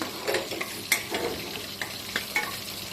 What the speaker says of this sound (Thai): แล้วยายแว่นก็จะใส่กระเทียมที่เตรียมไว้ นี่กระเทียมที่เตรียมไว้นะคะ ลงไป ผัดให้หอม